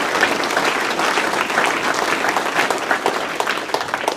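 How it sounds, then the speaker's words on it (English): An audience at an evening event claps steadily and continuously throughout, a dense close wash of applause with no pauses. "Come on, clap for yourselves."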